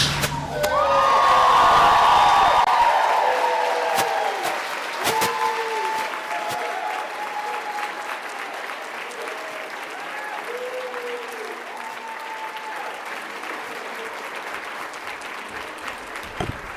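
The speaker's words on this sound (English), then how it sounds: "Let's give Ms. Geraldine Steele another round of applause" A fundraiser audience applauds after a singer's performance, with dense clapping, a few cheers and whoops rising loud at first, then thinning into scattered claps as voices chatter over it.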